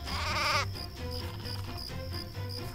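Sheep bleat in the video game Craft The World, one loud harmonic bleat up front and then fainter animal calls over a steady game soundtrack.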